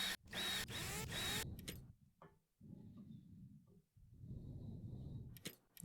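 A pneumatic drill in the video game Rover Mechanic Simulator fastens bits on a rover, heard as several separate whirring bursts with short pauses between them, fairly close and moderately loud.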